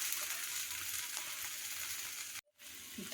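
Wheat dosa frying on a hot pan, a steady close sizzle running continuously with a brief break near the end before the crackle resumes.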